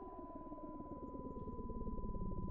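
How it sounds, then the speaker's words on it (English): A flatline effect from the Content Warning game score: a steady sustained electronic tone over a low distorted, pulsing buzz that grows slightly stronger, heard alone. "It's kind of more like a flatline noise."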